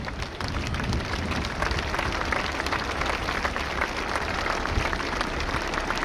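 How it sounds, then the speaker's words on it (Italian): A crowd at the Jesolo Air Show claps for an Italian tiltrotor aircraft in a dense, steady burst of applause, loud and sustained for several seconds. "signori dobbiamo farci un bel applauso per questo materiale italiano"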